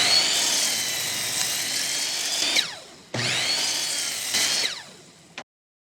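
A power drill bores pocket holes in wood in two close, loud, sustained runs. Its whining pitch sags under load near the end of each run, and it stops abruptly with a short gap between the runs.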